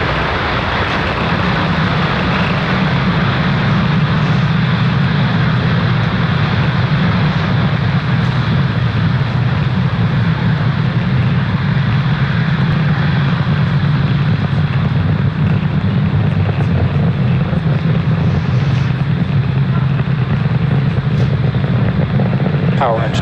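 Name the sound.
SpaceX Falcon 9 rocket launch, engines roaring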